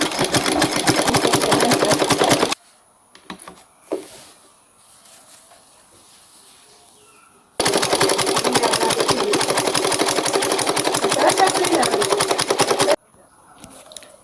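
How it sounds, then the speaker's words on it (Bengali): A sewing machine stitches a dress in two long, loud, steady runs of rapid mechanical whirring, with a quiet gap between them where soft handling noises and a voice can be heard. "মেশিনে সেলাই দিয়ে নেব"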